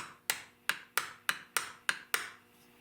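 Seven sharp metallic hammer taps on a stuck metal plug in an old Fox shotgun, at a steady, slightly uneven pace, each ringing briefly before the next strike, close by with no talking.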